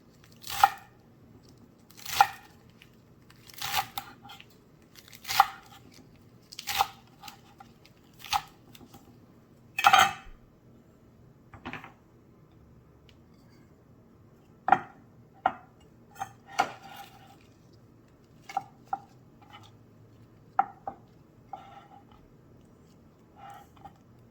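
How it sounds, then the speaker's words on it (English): Salad vegetables are chopped into bite-size pieces with a knife on a board, giving a series of crisp, sharp chops in uneven clusters, with quiet pauses between groups and a faint background hum, no talking. "So we're gonna chop it into bite size."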